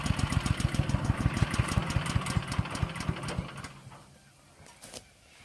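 Hansa C7 wood chipper with a heavy flywheel winding down: a rapid rhythmic mechanical thumping that slows and fades away over several seconds, leaving near silence with a few faint knocks.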